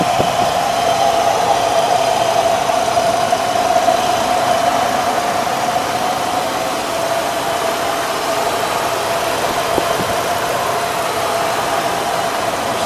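A 1997 Dodge Ram 3500 V10 truck engine idles steadily and close, a constant droning hum with a faint whine on top, unbroken for the whole stretch.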